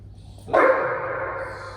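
A single dog bark rings out sharply and close, then trails off into a short fading tail in an indoor room, with no talk over it.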